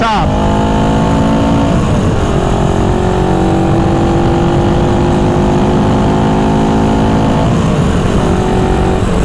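A 1974 Honda CB360 motorcycle engine is held at full throttle, running loud, near and continuous with a rough, slightly uneven drone as the pitch sags and recovers.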